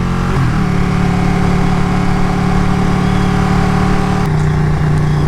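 A Ducati 959 Panigale motorcycle engine runs loud and close with a steady, even drone; its pitch shifts and settles lower near the end, with no distinct revs.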